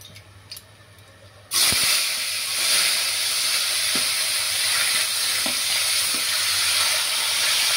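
Chopped onions tipped into hot oil with bay leaf and dried red chilli for a Bengali mutton kosha, a sudden loud sizzle bursting after quiet and holding strong, with a few light stirring knocks.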